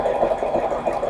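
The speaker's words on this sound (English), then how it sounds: "Let the sewing machine pull your work" A sewing machine runs steadily at close range, its needle stitching fabric in a continuous, even mechanical whir with a faint rhythmic pulse and no voices.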